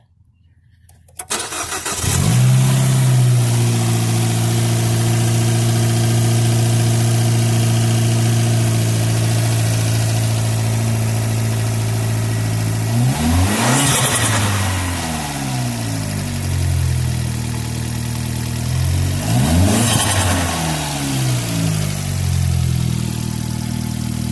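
A Fiat 500 Abarth engine with a Neuspeed cold air intake cranks and catches, then idles with a deep, steady rumble, broken by two sharp revs that rise and fall back to idle.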